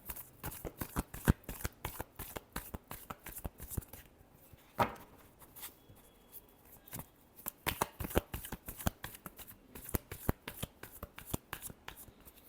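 Tarot cards being shuffled by hand: rapid, close bursts of crisp riffling and slapping, a quiet pause in the middle, then another long run of quick shuffles.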